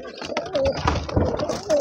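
Pigeons on a pigeon farm give soft, throaty coos in short repeated bursts, close by, with faint background voices and farm noise.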